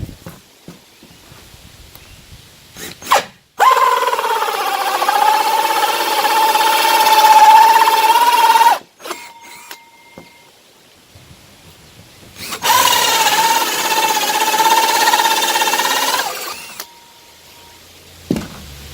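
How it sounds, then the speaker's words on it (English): An electric drill with a hole saw whines steadily through two long cutting bursts into a bus floor, separated by a pause with a few clicks and knocks. "Got a nice little drill here,"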